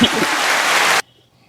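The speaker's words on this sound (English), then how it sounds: "Can I get some hand claps for that" A burst of hand claps from a group, about one second of dense clapping that stops abruptly, followed by near silence.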